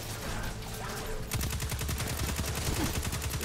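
Rapid automatic gunfire in the sci-fi shooter Destiny 2, a fast, steady stream of punchy shots starting after a brief lead-in of quieter shooting and continuing loud to the end, with no talk.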